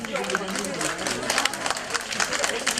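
A crowd at a village gathering of elderly residents and townspeople applauds to welcome a popular singer, dense steady clapping filling the whole stretch with cheering voices mixed in.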